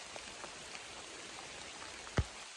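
Steady light rain falls on the Appalachian Trail on a cold day, a soft constant patter all around with one sharp nearby drop or tap near the end.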